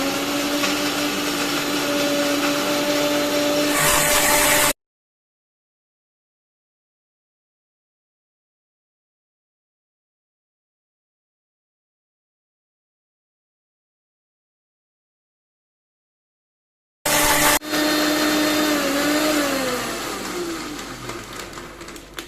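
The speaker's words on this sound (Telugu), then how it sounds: "ఇప్పుడు ఒక జార్లో మల్బెరీ మిశ్రమాన్ని తీసుకొని గ్రైండ్ చేసేస్తున్నానండి." A mixer grinder whirs loud and steady as it blends a mulberry mixture in a jar. It cuts to silence for a long stretch, then roars back and gradually winds down.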